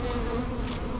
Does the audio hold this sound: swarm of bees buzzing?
yes